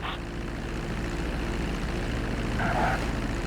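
A propeller plane comes in to land on a runway in Grand Theft Auto V, with a loud, steady engine drone and rumble held close throughout and no talking.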